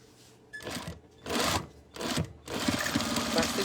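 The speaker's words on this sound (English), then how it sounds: "we're going to come back stitch 1, back stitch 2" Sewing machine back stitching a cloth face mask, running in short repeated bursts of mechanical whirring with brief pauses between them.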